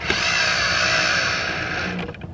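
A power drill drives a screw into a wooden brood box from a beehive kit, a steady close whirring buzz that runs for about two seconds before easing off at the end.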